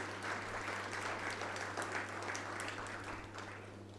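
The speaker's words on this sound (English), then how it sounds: "We give them a round of applause" An audience at a legal awards ceremony gives the technical committee a round of applause, a sustained, even patter of many hands heard from a distance over a steady electrical hum.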